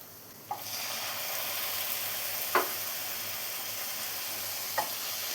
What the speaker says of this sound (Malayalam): ഈ സമയം ഇതിലോട്ട് നമുക്ക് ചിക്കൻ ചേർത്ത് കൊടുക്കാം.